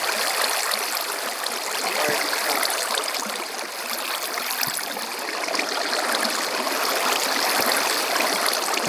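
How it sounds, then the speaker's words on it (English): Flowing water in the Minecraft video game rushes in a dense, steady wash, like a stream, constant and fairly loud for the whole stretch with no voices over it. "Now there's a bunch of water."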